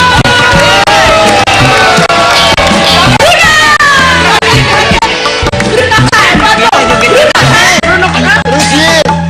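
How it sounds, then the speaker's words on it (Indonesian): A studio audience on an Indonesian TV comedy show claps and cheers loudly and continuously, with whoops and shouts mixed into the roar and voices talking over it. "Tepuk tangan dong."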